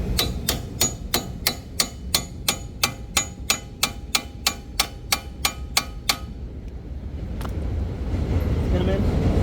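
A hammer taps strut bolts into the steering knuckle of a Lincoln Corsair / Ford Escape front suspension. About seventeen quick, evenly spaced metallic strikes ring out close by, then stop, leaving a low background rumble.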